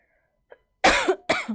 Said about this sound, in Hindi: ये बीच बीच में आपको मेरी खांसी परेशान करती रहेगी